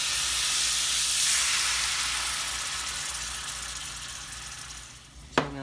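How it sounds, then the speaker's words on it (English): White wine hitting a hot pan of shrimp, a loud burst of sizzling steam that hisses strongly and slowly fades, ending with a sharp clink, close with no talking. "Then I'm going to deglaze with some white wine."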